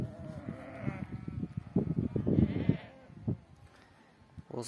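A flock of sheep coming in to water, overlapping bleats from several animals at close to middle distance, rising to a busy cluster midway and thinning out afterward.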